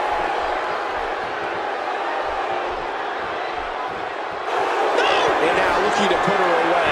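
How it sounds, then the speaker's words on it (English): An arena crowd roars through a WWE 2K17 women's one-on-one match, a steady wash of noise that swells louder partway through, with commentators talking over it. "You can hear this crowd"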